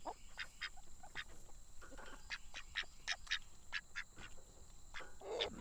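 A flock of ducks quacks repeatedly nearby, short nasal calls in quick irregular bursts over a low background of farm noise.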